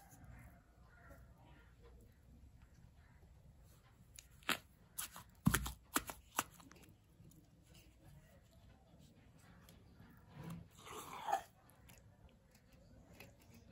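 Jujube fruit pounded with salt and jaggery, a few sharp thuds clustered together then a later pair, close and fairly soft against a quiet room.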